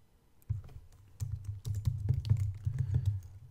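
Keys typed in quick irregular bursts on a computer keyboard while writing text for a WordPress about page, close and clear, with a short quiet start before the clatter begins.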